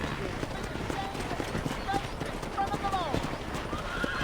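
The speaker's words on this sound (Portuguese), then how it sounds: "Vou deixar aqui o nosso cavalo aqui." A horse in the video game Red Dead Redemption clip-clops on its hooves and lets out whinnies, close and clear, with steady hoofbeats running under someone talking throughout.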